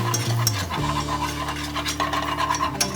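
Flour stirred into melted butter in a cast iron Dutch oven, a steady close scraping and rasping with a faint sizzle underneath, continuous throughout with no talking.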